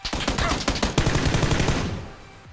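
Rapid gunfire in the video game PUBG: a fast burst of sharp, loud shots for about two seconds, then the sound trails off into quiet.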